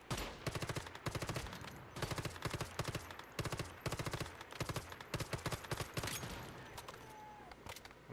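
Rapid automatic gunfire in the shooter game Once Human: loud, close bursts of sharp repeated shots in quick rhythmic volleys with short pauses between them, trailing off toward the end.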